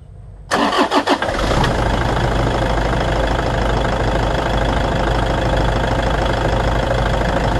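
A Toyota diesel engine, on an Innova, Hilux or Fortuner after a fuel filter replacement, cranks with a few rapid chugs and catches, then settles into a loud, steady idle rumble with no talk.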